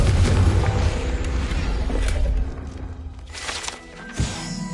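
A Confringo blasting spell explodes in Hogwarts Legacy, a loud booming blast with rumbling low end that fades out, followed by a smaller thump near the end.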